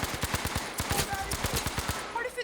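Rapid automatic gunfire in the video game Battlefield 5 rattles out as a fast, even burst of about a dozen close, loud shots over roughly two seconds, then breaks off.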